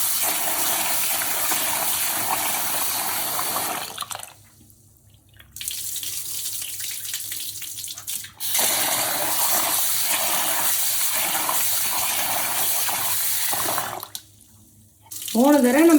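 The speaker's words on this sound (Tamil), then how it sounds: "மூணு தடவை நம்ம அலம்பிக்கலாம் அரிசியை, அப்போ தான் நல்லாயிருக்கும்" Rice is rinsed for fenugreek dosa batter under a running tap, making a steady, loud gush of water into a vessel that cuts off briefly twice before resuming, heard close and with no talking.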